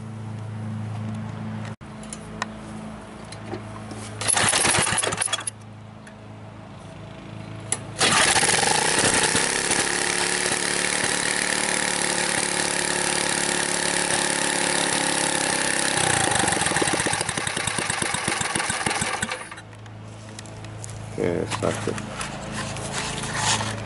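An Ariens front tine tiller fitted with a new carburetor cranks briefly, then its small engine catches and runs at a steady loud idle for several seconds before the noise drops back.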